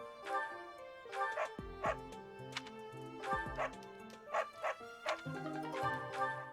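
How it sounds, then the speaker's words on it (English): A dog in Fire Emblem: Three Houses giving a run of close, yappy barks and short whimpers, repeated in bursts over a soft melodic music bed. "Dog."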